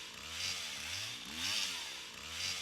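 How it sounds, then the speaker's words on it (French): Chainsaw engine idling in a horror audio drama, a near, rough motor whose pitch rises and falls in three slow surges, heard alone. "Le moteur de la tronçonneuse tourne au ralenti."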